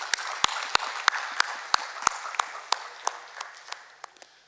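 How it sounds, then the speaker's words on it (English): Audience at the FAFAI 2019 event applauding the organising team with sharp, rhythmic clapping close by, evenly spaced claps that gradually loosen and fade toward the end. "A round of applause for all of them,"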